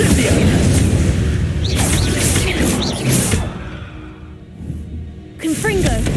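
An Incendio fire spell cast in Hogwarts Legacy bursts out as a loud, roaring whoosh and boom, then fades into a quieter rumble before another flare, with a voice shouting over it.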